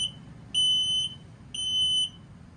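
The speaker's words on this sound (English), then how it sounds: "If for any reason it smells LP or carbon monoxide, it's going to give you that little annoying sound." Two loud, piercing carbon monoxide and LP detector alarm beeps in a travel trailer, each about half a second, separated by short pauses, sounding close and alone.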